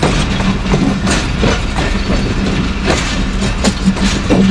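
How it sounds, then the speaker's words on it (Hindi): The Karam Express passenger train running between Karachi and Lahore via Faisalabad rolls past close by, with a loud, continuous rumble and repeated clickety-clack of wheels over rail joints. "कराची से लाहौर के दरमियान चलने वाली करम एक्सप्रेस वाया फैसलाबाद"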